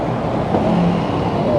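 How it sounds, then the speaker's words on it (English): Steady low rumble of a sightseeing tour bus in Kuala Lumpur heard from inside the cabin, a continuous engine and road drone with faint traffic around and no talk. "so now we are inside the bus"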